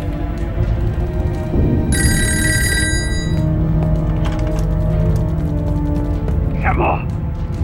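In a war film scene, a telephone bell rings in a short bright burst over a dense bed of background sound and voices, followed by fainter rings.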